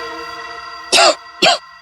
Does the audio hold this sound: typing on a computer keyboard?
no